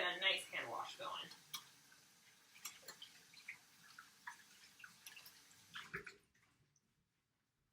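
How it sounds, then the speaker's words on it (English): Hands being washed with warm water and soap before making apple donuts: a voice speaks briefly at the start, then soft splashing and scattered drips follow at close range before fading to quiet. "Really get a nice hand wash going."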